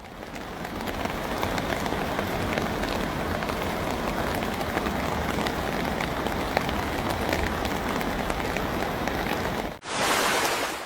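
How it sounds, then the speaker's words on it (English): Heavy rain and strong wind flooding streets in South Korea, a dense, constant roar of downpour with gusting wind, loud and unbroken, cutting off briefly near the end before resuming. "Relentless winds and heavy rain rapidly submerge streets in South Korea."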